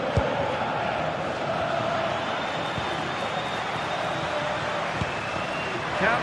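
Stadium crowd in a football video game, a steady loud roar of many voices with rising and falling swells, sustained throughout.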